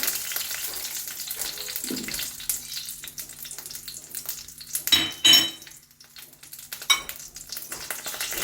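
Shallots, ginger, garlic and onion frying in a pan for a mushroom curry, a steady close sizzle with occasional utensil clinks and scrapes, a louder burst of stirring midway, and no talk.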